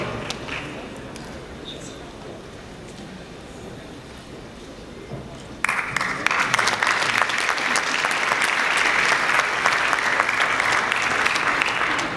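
Applause at the closing ceremony of the 2019 Carthage Film Festival: a hall audience claps, faint and scattered at first, then swells into loud, sustained clapping.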